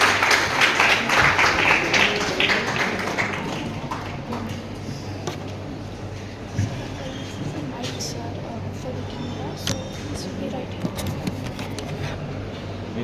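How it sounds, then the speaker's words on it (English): Dense clapping from a crowd fills the opening seconds, then thins into scattered claps and faint murmuring. "Let's give a round of applause"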